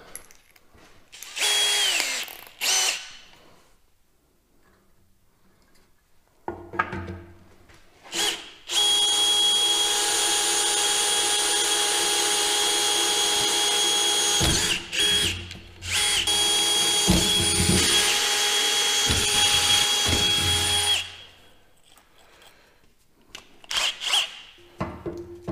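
A power drill boring holes in metal whines loudly in long sustained runs, starting and stopping, with short bursts and clatter between the steady grinding stretches.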